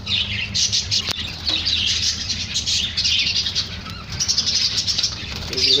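Young lutino chicks being fed corn chirp in busy, repeated high bursts close by, with a sharp click and low background rumble between calls.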